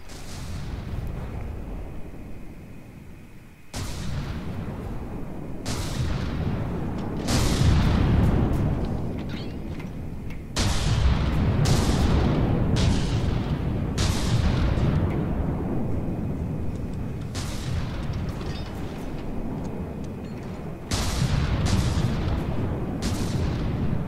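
Torpedoes and missiles explode in the naval combat game From the Depths, a long run of heavy booms, each striking sharply and rumbling away, at irregular intervals over a constant low battle roar.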